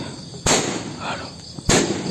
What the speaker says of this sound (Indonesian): Di sana terjadi ledakan.